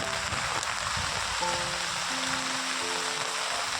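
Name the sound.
steady rain falling while walking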